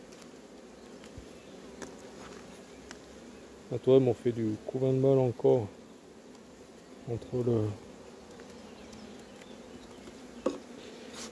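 Honeybees hum steadily around hive frames as a beekeeper moves a small colony into a hive with nectar dripping; the buzz carries throughout beneath a few short bursts of French speech.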